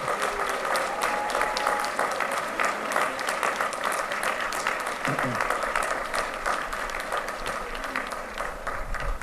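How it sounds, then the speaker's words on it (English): A graduation crowd claps loudly for school district staff, a full round of applause that holds steady with some cheering and scattered voices mixed in. "if you could give them a round of applause."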